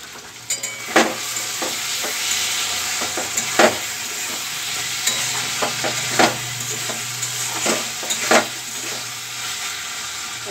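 Vegetables frying in a home kitchen pan while being stirred, with a steady sizzling hiss and regular sharp scrapes and clinks of a spoon against the pan, close and fairly loud with no talking.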